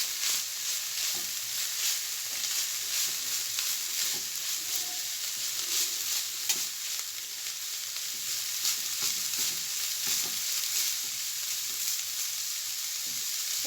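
Lasagna ingredients, yellow peppers among them, sizzle in a hot pan while being stirred, a steady frying hiss broken by soft scraping and clinks of the utensil.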